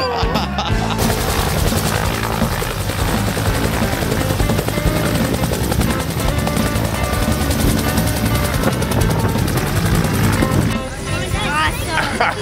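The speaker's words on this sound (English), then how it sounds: "learning how they too could be cool like you, flying a helicopter" The rapid thudding chop of a helicopter's rotor runs continuously and loudly, mixed with music and a voice speaking over it.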